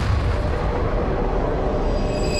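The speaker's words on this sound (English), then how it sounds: "And that sets off the most dramatic explosion in the universe." A supernova explosion rendered as a huge, sustained roaring blast, dense and loud throughout with no break.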